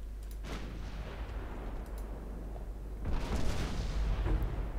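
Naval artillery in the video game Ultimate Admiral Dreadnoughts, with a low rumbling boom early on and a heavier, louder rolling blast near the end over a steady low background drone.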